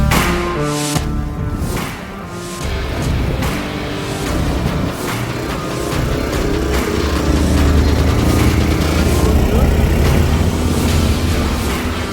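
An 18 hp Thai long-tail boat motor, the heavy-duty Beaver Dam build, runs on a bayou with a steady, loud, buzzing engine drone that holds throughout.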